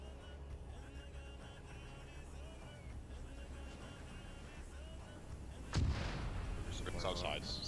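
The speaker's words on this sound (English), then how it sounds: "both sides have mortars, I will be taking some fire support and occasionally landing it in some of the open crater areas" Mortar fire in a trench warfare video game: a continuous low rumble of distant artillery with a sharper, louder impact near the end, under faint background chatter.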